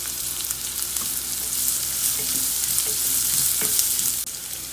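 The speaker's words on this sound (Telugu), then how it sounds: "కట్ చేసుకున్న ఉల్లిపాయ ముక్కలు వేసుకుందాం." Chopped onion pieces fry in a pan for a curry, making a steady, close sizzle with a few faint stirring scrapes, and no talking.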